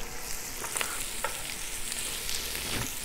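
Bacon and desalted dried beef fry in a pan, a close, steady sizzle with scattered crackles and light stirring, no talking.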